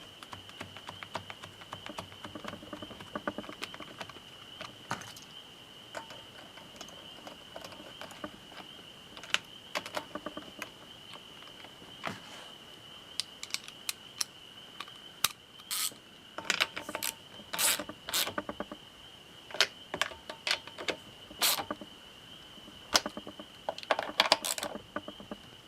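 Small nuts being threaded and tightened on a Honda GXV140 engine during carburetor cleaning: scattered light metallic clicks and scrapes close by, over a faint steady high whine, with no talking.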